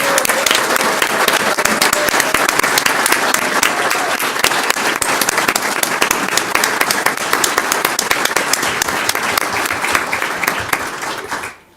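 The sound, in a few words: audience round of applause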